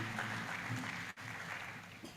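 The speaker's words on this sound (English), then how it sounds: "A round of applause for him for the last time." An audience applauds speaker Paul Oppong at a talk on project portfolio management with OKRs, a fairly soft, steady patter of clapping with a brief dip midway.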